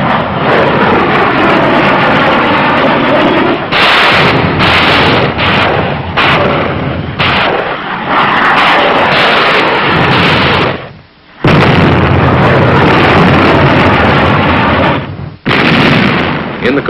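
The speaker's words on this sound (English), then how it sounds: "In the Korean emergency, our ship has been put to work in shore bombardment." Naval ship guns fire a shore bombardment during the Korean War, loud booming blasts in quick succession with short gaps, rumbling continuously between shots.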